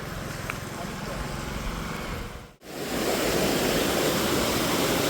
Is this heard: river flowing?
yes